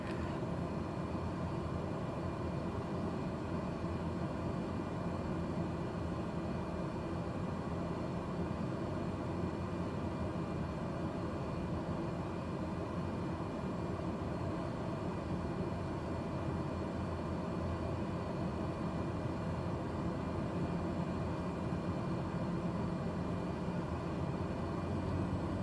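Cessna Grand Caravan turboprop engine in Microsoft Flight Simulator, a constant low, even drone holding steady at the same level the whole way through, with no talk over it.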